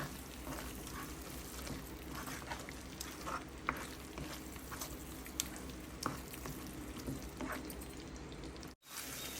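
Gravy fries in oil in a pan over a medium flame, a steady close crackling sizzle with scattered sharper pops, broken by a brief dropout near the end. There is no talking.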